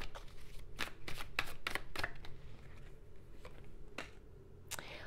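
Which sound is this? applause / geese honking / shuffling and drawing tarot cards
shuffling and drawing tarot cards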